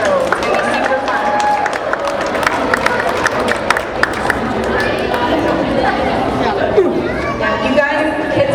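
Applause and cheering ripple through a crowd at a year-end swim club awards night, dense clapping mixed with chatter and scattered voices, steady and fairly close throughout.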